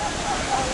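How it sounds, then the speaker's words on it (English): A strong jungle waterfall in Costa Rica near La Fortuna roars as a steady, dense wash of broadband noise, close and continuous with no breaks. "The waterfall is so strong right now, you can't get directly underneath it"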